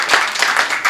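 An audience at a scholarship award ceremony in Kinshasa claps briefly for the student recipients, producing a close burst of rhythmic hand claps.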